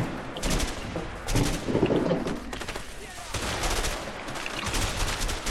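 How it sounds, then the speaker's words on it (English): Bursts of gunfire ring out repeatedly in the video game A Way Out, sharp clustered shots crackling close and loud, with a few voices faintly underneath. "Why is that shit 3-round burst but before it was automatic?"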